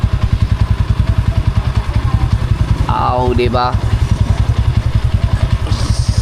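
A nine-year-old, well-kept motorcycle idles close by with a steady, rapid thumping putter, while a voice speaks briefly over it in the middle.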